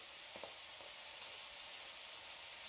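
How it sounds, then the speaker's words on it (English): Bacon sizzles and crackles in a pan over low heat, a close, steady frying hiss with a couple of faint knocks near the start. "Add my bacon."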